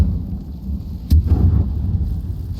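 A bomb goes off in Hogwarts Legacy: one sharp crack followed by a deep rumbling boom that fades over a second or so against a low ambient game backdrop.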